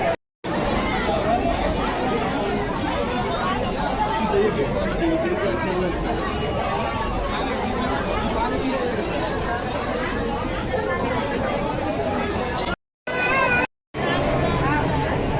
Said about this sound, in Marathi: गर्दी कितपर्यंत आहे एवढी मोठी लाईन आहे अजून किती गर्दी